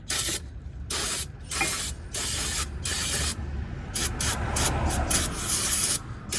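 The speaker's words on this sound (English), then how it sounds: "we'll knock off the remainder of the dust with the spray" Aerosol brake cleaner blasting dust off the brakes of a 2015 BMW 328i, in a series of loud, close hissing bursts of varying length separated by brief pauses, with no talking.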